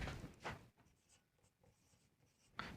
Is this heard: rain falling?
no